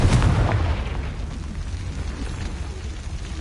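Confringo spell explosion in the video game Hogwarts Legacy, a loud booming blast at the start that decays into a long rumbling tail.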